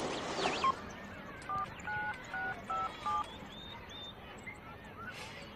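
A telephone is dialed, and a series of about six evenly spaced touch-tone beeps sound clearly over a noisy indoor background, with some faint talk early on.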